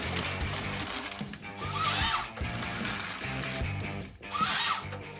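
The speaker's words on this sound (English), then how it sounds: "Embark on a logging journey with the LogMax 2000T harvester head" LogMax 2000T harvester head cutting trees: a loud, steady mechanical drone with a rhythmic machine hum and repeating surges, like a heavy saw running continuously.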